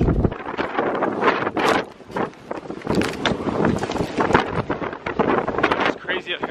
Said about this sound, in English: The wind is nuts.